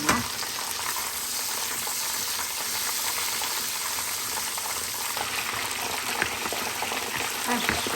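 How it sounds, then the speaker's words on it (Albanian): Butter melting in a frying pan after schnitzels are cooked, giving a steady, even sizzle throughout with no talk. "të marrë një tigan, ku hedhim gjalpën"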